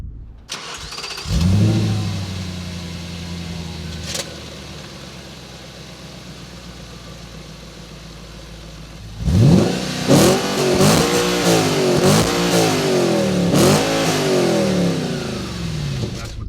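An Audi B7 RS4 engine starts with a sharp rev, settles into a low idle, then revs hard several times in quick, rising and falling bursts, loud and close.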